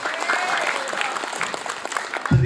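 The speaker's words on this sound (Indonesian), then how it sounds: "Tepuk tangan untuk Bu Camat." A crowd applauds for the sub-district head at a village gathering in Gebyog, Magetan, with steady, dense clapping throughout and a voice calling out over it early on.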